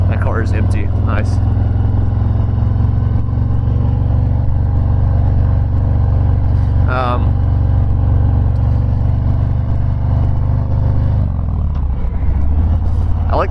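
A stock 2019 Harley-Davidson FXDR Softail drag-style motorcycle engine drones steadily and loudly while riding, with a deep constant rumble throughout and a brief rev change near the end.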